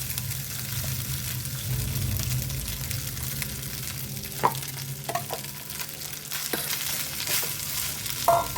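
Leftover rice frying with green chilli and curry leaves in a pan, a steady close crackling sizzle running throughout, with a few scattered clinks and scrapes of a spoon, no speech.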